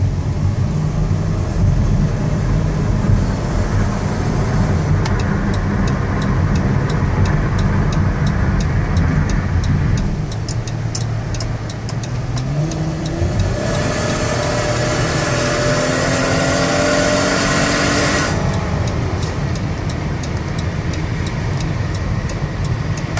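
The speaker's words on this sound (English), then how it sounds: "I want you to hear the transmission shift, the engine run." A 2019 Dodge Caravan SXT wheelchair minivan's engine hums steadily from inside the cabin, with pitch rising and dropping as the transmission shifts through gears.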